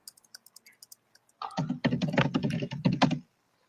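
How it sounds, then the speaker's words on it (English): Typing on a computer keyboard: a few sparse light key taps, then a dense, loud burst of rapid clattering keystrokes for about two seconds before stopping, no voices. "She's still beating up her keyboard."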